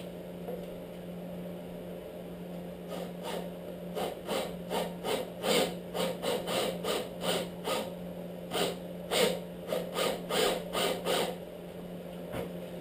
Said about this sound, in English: Come back with a 1/2" Forstner bit and just kind of line up right in the middle of where those grooves are.